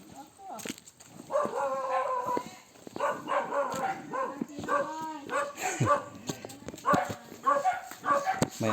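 A dog barks in short bursts near a rural wooden path on the way to a cottage prayer meeting, the barks mixed with footsteps and people talking.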